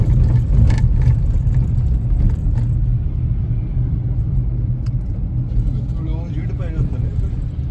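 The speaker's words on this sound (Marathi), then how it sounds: "इथं ट्रक जास्त आहेत" Heavy road traffic on a Rajasthan highway, mostly trucks, a continuous deep engine rumble and tyre roar passing close by, with faint talk in the background.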